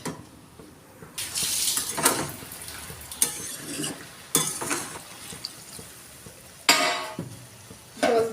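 Water is poured into pumpkin curry in a cooking pot, a loud close splashing and rushing sound that comes in several surges, with metallic pot clatter and stirring between them.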